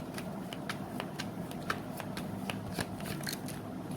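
Tarot cards being shuffled by hand, a steady series of crisp riffling snaps close to the mic, repeating every fraction of a second with no speech.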